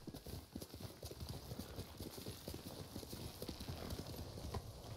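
Horse hooves clip-clopping in a samurai video game, a quick, steady run of close hoof strikes with faint background ambience and no talk.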